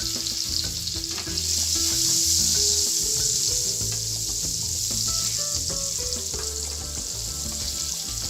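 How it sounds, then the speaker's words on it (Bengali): Chopped garlic fries in hot oil for a Bengali red spinach dish, a loud, continuous close sizzle with light stirring throughout. "রসুনের কুচিটা দিয়ে দিচ্ছি"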